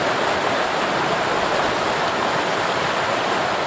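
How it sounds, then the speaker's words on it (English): A river rushes with a full, steady roar, loud and close, a dense unbroken wash of water noise with no voices. "the sound grows into a full, exhilarating roar"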